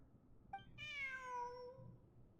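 A single clear cat meow from the video game Genshin Impact rises and then fades, heard alone against a faint background.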